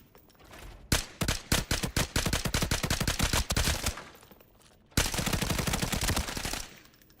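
An H4 PLS gun fires in a video game: a rapid, loud string of sharp shots for about three seconds, a brief pause, then a second sustained burst of fast fire that cuts off abruptly.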